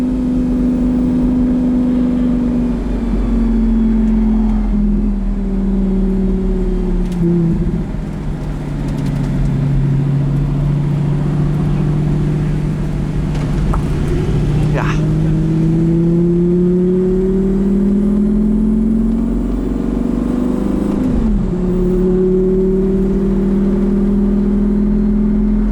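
A 2007 Lamborghini Gallardo Spyder engine revs loudly and continuously, its pitch rising and falling through several swells over a steady deep rumble, with no voices.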